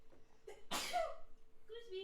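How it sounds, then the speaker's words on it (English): A single quick sneeze bursts out near a tabletop card game of Pauper Magic, brief and fairly quiet, with soft voices just before and after. "sneezing over here"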